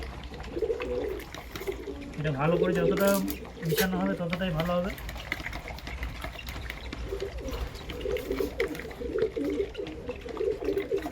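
Pet pigeons coo in low, rolling calls around a hand-feeding of pigeon chicks, with a louder burst of cooing near the start and softer cooing later, mostly under someone talking.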